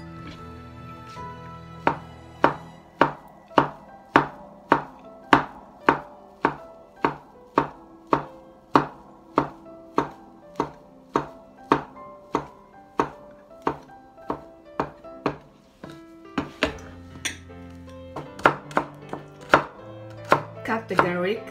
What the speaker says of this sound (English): Let's cut to a thin omelette.